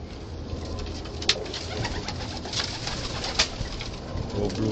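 Domestic pigeons in a loft of flying birds, with steady outdoor background noise and a couple of brief louder calls or flutters standing out.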